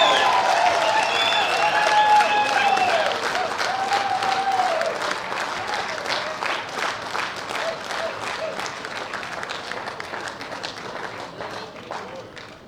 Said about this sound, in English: Give her a round.